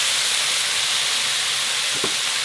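Seasoned rice wine vinegar hits a hot grill over salmon and vegetables, producing a loud, continuous steamy hiss and sizzle close by, with a brief clack near the end.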